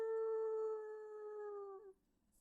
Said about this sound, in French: vous entendez des chiens sauvages qui sont en train de poursuivre votre bagnole.